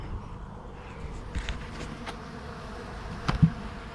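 Bees, including some black bees, buzz softly around a bucket of honeycomb outdoors, a faint continuous hum with a few slightly closer passes.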